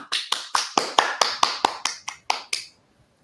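Virtual applause to welcome a consul general comes through as about a dozen crisp, close claps in a quick, even run that stops abruptly, leaving near silence.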